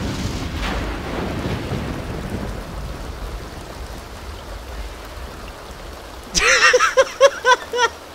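Steady rain hisses and rumbles through a Sims 4 game scene, a low roar of rainfall that thins out. Near the end, a few loud, rhythmic tonal bursts cut in over it.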